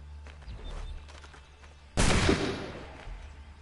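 A single gunshot in Assassin's Creed III Remastered, a sudden loud blast with a decaying rumble, following quieter game ambience and small clatters.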